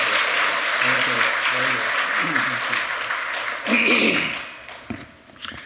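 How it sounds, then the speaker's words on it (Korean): A church congregation applauds to welcome a speaker, with sustained clapping under a murmur of voices. It then thins into a few scattered claps and small noises as the room settles. "우리 박수로 환영해 주시고"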